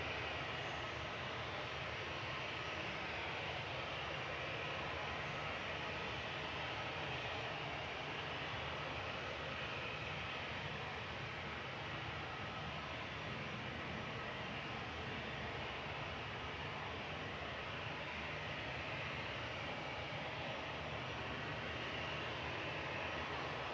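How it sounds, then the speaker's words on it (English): A TAP Express jet operated by Portugalia Airlines approaching to land at Manchester Airport, a continuous broad engine roar heard from a distance, steady and unbroken throughout with no talk. "TAP Express coming in, operated by Portugalia Airlines."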